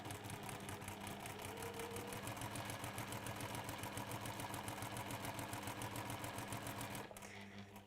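Sewing machine stitching fabric pieces together, a quiet rapid rhythmic chatter of the needle running steadily for several seconds before stopping abruptly near the end.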